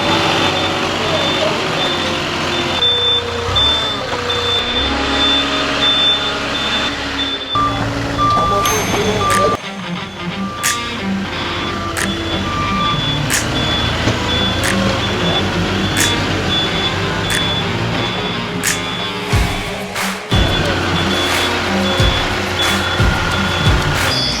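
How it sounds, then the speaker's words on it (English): A truck's reversing alarm beeps steadily in a regular rhythm, accompanied by a rumbling engine, hissing brakes and busy site noise. "Tell him to stop the beeping."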